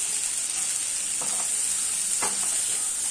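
Watermelon rind frying in a pan of hot oil, a dense bright sizzle running throughout with a couple of brief utensil scrapes, near and without voices.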